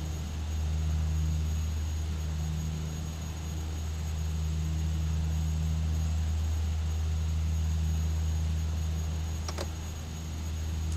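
A King Air turboprop rolls onto the runway in X-Plane 11, a steady loud droning hum with a constant high whine, interrupted by a brief click near the end.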